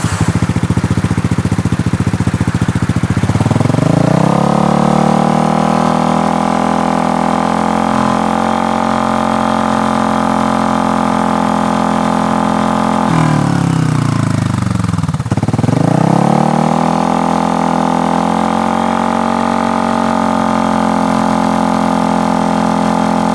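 A Kymco Downtown 300i scooter fitted with a Delkevic exhaust idles, then revs up to a loud steady drone, drops back briefly toward idle and climbs again to a sustained high rev.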